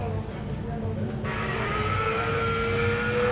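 Race car lapping the Oulton Park circuit, a steady engine drone with rising tonal whine as it accelerates, close and continuous throughout, with a voice talking over it.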